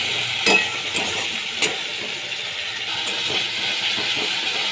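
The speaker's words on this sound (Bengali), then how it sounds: "ভালো করে মশলা আমি কষিয়ে নিচ্ছি।" Whole spices, tomato, ginger and cumin paste fry in a pan, giving a steady close sizzle with a few sharp stirring knocks near the start and middle.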